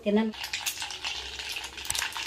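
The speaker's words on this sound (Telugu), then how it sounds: "ఆవాలు వేస్తున్నా, ఆవాలు 1 స్పూన్ అండి" A spoonful of mustard seeds hits hot oil while drumstick sesame gojju is being cooked: a short clatter, then a steady close crackling sizzle with fine popping throughout.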